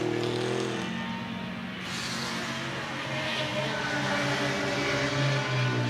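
Touring cars race at Goodwood, among them an Austin A40, their engines droning loud and close, with rising and falling revs as cars run down into Woodcote and sweep past one after another.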